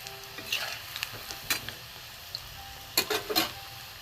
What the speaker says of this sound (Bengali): দ্বিতীয় স্টেপে আবার এই কটা ভেজে নেবো। মধ্যে একটু কড়া করে ভেজে নিই।